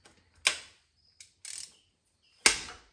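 A 3/8 ratchet working on the transmission drain plug of a 2020 Honda Odyssey gives a few sharp metallic clicks and a brief ratcheting burst, close up, separated by silence.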